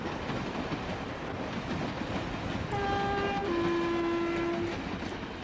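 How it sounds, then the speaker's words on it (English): A passing train with a horn or whistle, heard over steady broad rumble; tonal blasts rise partway through and hold for a couple of seconds at moderate loudness. "See the train going by."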